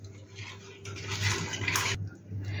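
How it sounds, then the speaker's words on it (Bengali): Running tap water splashing over hands at a kitchen sink while preparing batter, a steady close wash that swells louder midway, then briefly drops and resumes. "তবে একটু হাতটা ধুয়ে নিই"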